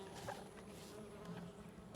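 Honey bees buzzing around a hive during a swarm or abscond, a faint continuous drone with a few louder passes as individual bees fly near.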